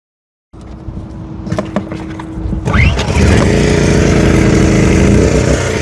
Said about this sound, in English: I'm gonna start the generator up